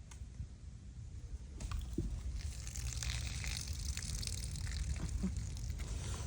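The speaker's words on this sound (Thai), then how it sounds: "ให้เราเทน้ำในนี้ออกให้หมด" Water is poured out of a container while making a homemade mosquito repellent with vinegar, a steady close gushing and splashing that runs throughout.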